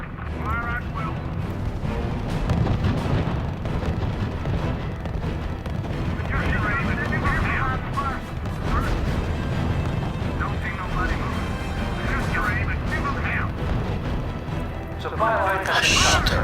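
Lee tanks fire on Italian infantry in the R.U.S.E. World War II strategy game, a dense continuous barrage of booms and gunfire under steady battle noise, with someone talking over it.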